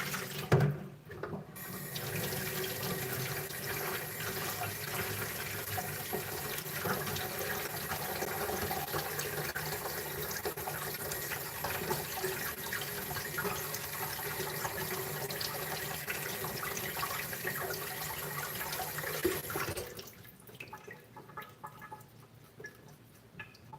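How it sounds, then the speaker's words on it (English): Water from a leaking kitchen faucet runs in a steady, continuous hiss for about eighteen seconds, then cuts off, leaving a quiet room with a few faint clatters. "Yes, the faucet started leaking again today."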